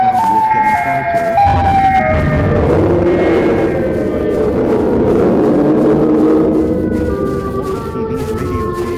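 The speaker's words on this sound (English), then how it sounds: "sirens going off randomly in the area" Several video game sirens from the horror game Siren Head wail at once, their pitches sliding up and down and overlapping, loud and steady against a dense rumbling background for the whole stretch.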